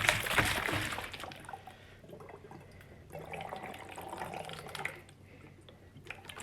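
Water sloshes and swirls inside a hand-swirled tornado bottle, with a gurgling, liquid churn close to the microphone that rises and falls over several seconds and fades near the end.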